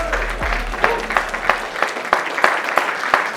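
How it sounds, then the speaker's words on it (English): A comedy audience claps to welcome comedian Ron White. A low hum fades early, then sparse, distinct claps ring out in an uneven rhythm, thinner than a full ovation. "Give a big round of applause to Mr. Ron White."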